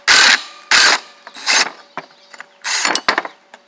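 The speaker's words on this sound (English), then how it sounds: "Then we're going to use my impact driver to take that out" Impact driver backing a bolt out of an engine bracket during a swap to a GM 10SI alternator, several loud, close bursts of rattling hammering separated by brief pauses, with smaller taps between them and no voices.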